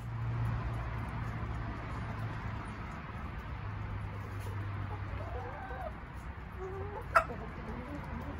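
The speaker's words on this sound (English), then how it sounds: "That's chickens." Village chickens cluck softly in a few short, scattered calls over a low steady hum and quiet background, with a brief sharp sound near the end.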